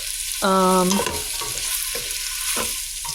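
Red onions sautéing in a pot give a steady bright sizzle, broken by a brief tonal scrape and a few softer stirring strokes.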